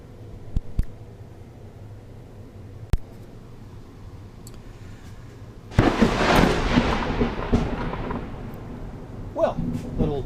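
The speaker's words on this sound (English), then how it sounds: "a bolt of lightning with thunder right there next to me" A close lightning strike during a Florida thunderstorm lets out a sudden loud crack of thunder that rumbles and fades over several seconds, after a few sharp ticks and clicks against a quiet background hum.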